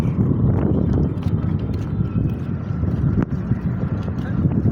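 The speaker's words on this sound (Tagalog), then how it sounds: "Mahangin dito, guys" Strong wind buffets the microphone by a riverside near Binondo Bridge, a constant low roaring rumble that fills the whole stretch, loud and close, with faint sounds of people in the background.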